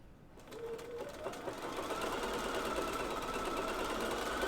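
A Bernina sewing machine stitching: a steady, fast mechanical whir and clatter that speeds up and then runs evenly for several seconds, close and fairly quiet.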